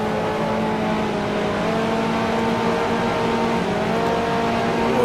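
A race car engine downshifting into fourth gear on a circuit, heard as a loud, steady onboard engine drone with sustained tonal whine that shifts slightly in pitch, no voices over it.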